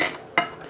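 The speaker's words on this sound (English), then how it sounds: "let me use the white ceramic spatula to stir up my onions to get coated in butter" Onions in butter are stirred in a pan with a white ceramic spatula. A continuous frying sizzle is broken by one sharp scrape or tap of the spatula partway through.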